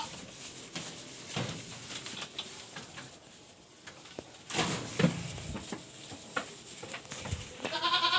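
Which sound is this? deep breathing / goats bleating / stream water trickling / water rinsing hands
goats bleating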